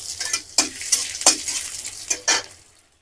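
Chopped onion frying in hot oil in a wok (kadai) on a gas flame, a steady close sizzle broken by several sharp scraping stir strokes of a spatula against the metal.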